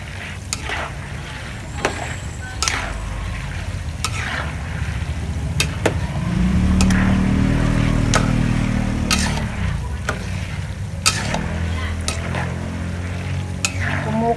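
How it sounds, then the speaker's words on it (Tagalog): Peanuts fry in hot oil in a pan, a steady sizzle with scattered crackles and occasional stirring clicks; no one speaks. "Kumukulo pa siya kasi mainit pa talaga yung ating mantika."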